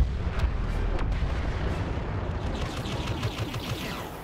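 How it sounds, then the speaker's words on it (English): Heavy, rumbling booms from an impact grenade and other battlefield blasts in Star Wars Battlefront on Jakku, loud at the start and fading, with crackling gunfire-like bursts layered throughout. "I'm not sure the impact grenade blows up big enough for my taste."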